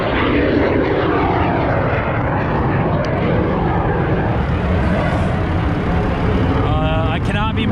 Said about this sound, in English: Sorry about the jet noise.